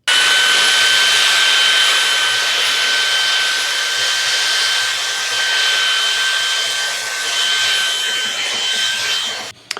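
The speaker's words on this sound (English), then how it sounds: "you can run this on maximum suction with the motorhead attachment on it, which will cause the beater bar to roll the entire time" A Shark Detect Empty & Clean cordless stick vacuum with a motorhead attachment runs on maximum suction. It gives a steady, loud, high-pitched whine with a constant airy rush for almost ten seconds, then cuts off at the end.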